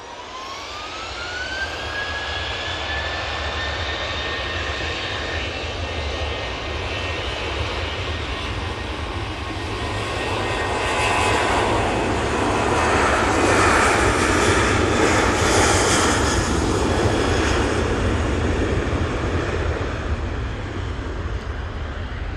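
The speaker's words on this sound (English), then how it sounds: "Jet2 blasting down 2-3 left." A Jet2 airliner roars down runway 23L at Manchester Airport, a loud sustained jet engine rush with a rising whine that swells in the middle and stays strong to the end.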